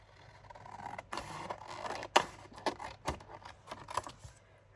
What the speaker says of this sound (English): I'm going to cut this in half. Let's cut it down here.